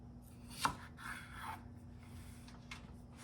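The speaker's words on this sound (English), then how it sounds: "We are gonna cut these potatoes in half." A knife slicing two large washed potatoes in half on a board, one sharp chop standing out early, followed by soft rubbing and scraping, quiet and close with no talking.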